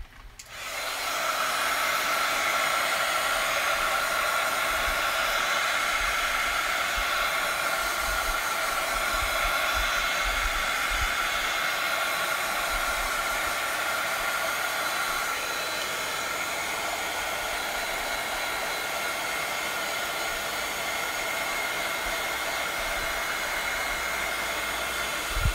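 A hair dryer blows steadily at close range over a watercolor painting, a loud continuous whoosh with a bright whine that holds nearly unchanged for the whole stretch, easing very slightly later on.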